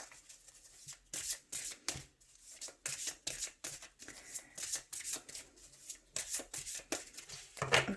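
Tarot cards riffled and shuffled in a quick series of crisp, papery bursts separated by short pauses, close and fairly loud, with no talking.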